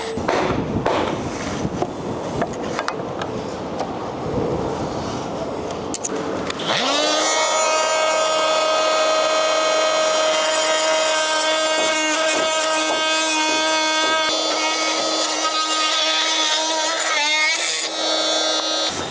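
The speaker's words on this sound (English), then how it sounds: "We'll just do a few cuts of the multi-tool and see how it goes." Makita oscillating multi-tool cutting through wood studs: a loud, steady high-pitched buzzing whine that starts abruptly about a third of the way in and runs continuously to the end, after a stretch of softer handling noise.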